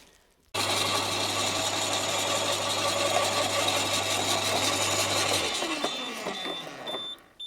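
Bosch AXT 25 D garden shredder switching on and running with a loud, steady mechanical drone and low hum, then winding down as the motor stops near the end.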